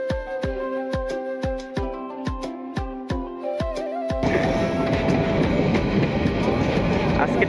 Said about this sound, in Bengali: এই যে ট্রেন পার হচ্ছে